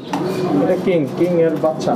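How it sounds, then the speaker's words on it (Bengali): Fancy pigeons at a farm coo softly in the background while people talk steadily over them throughout. "দর্শক খুবই সুন্দর সুন্দর কিছু কবুতর আছে এই জায়গায়"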